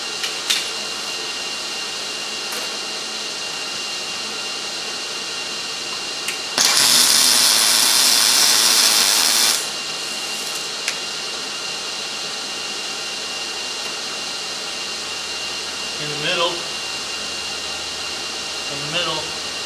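Tack welding on a bench-top drill press modification: about three seconds of steady, close, crackling arc hiss rises out of a quiet workshop hum, then cuts off abruptly.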